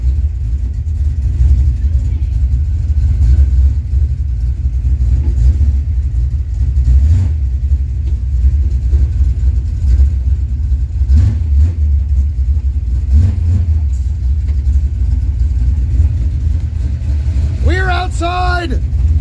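An old project car engine rumbles and revs at medium pitch as it moves off for the first time in years, with excited voices talking loudly over it throughout.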